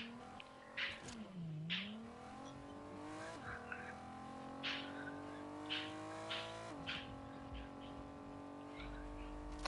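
A car in the video game Fortnite drives and revs, its engine pitch dipping and climbing in shifts, with short tire squeals and scattered game effects, fairly quiet overall.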